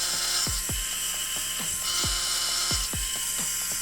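Krytac Kriss Vector airsoft gearbox motor, in need of shimming, spinning with a high continuous whine and a run of sharp mechanical knocks and clicks at irregular intervals, close and alone.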